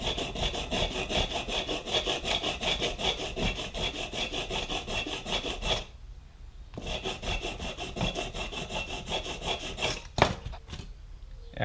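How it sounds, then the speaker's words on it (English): Steady back-and-forth rasping of 150-grit sandpaper wrapped on a file, smoothing burrs from the cut edges of a 1:64 scale model car body; continuous close scrubbing strokes with a brief pause near the middle and a sharp tap toward the end. "I'm going to take a piece of sandpaper on a file using the same 150 grit I used before"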